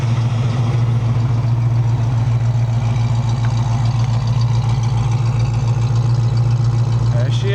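Idling 1965 Ford Mustang Fastback V8 heard from behind the car, a steady low exhaust rumble with even pulsing, loud and close throughout, with a brief higher sound near the end.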